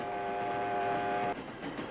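A train rumbles steadily with a sustained horn tone sounding over it, the horn cutting off as the rolling noise continues.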